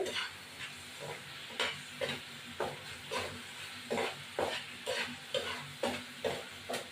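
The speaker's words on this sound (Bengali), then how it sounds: "আর একটু মশলাগুলো ভাজা ভাজা হবে" Spices and eggs fry in a pan while a spoon stirs them, giving a steady close sizzle broken by regular scraping strokes roughly every half second, with no voices.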